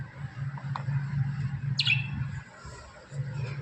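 Pet parrots give a sharp, bright chirp and a few faint squeaks indoors. The calls are brief and scattered over a low household hum.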